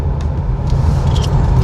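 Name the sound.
car at a park parking area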